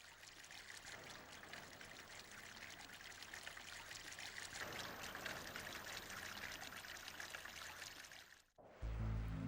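Water runs steadily along a canal beneath a motorway, carrying outflow from a fish farm; a continuous trickling, streaming wash holds nearly unbroken for about nine seconds before cutting off into a brief low rumble.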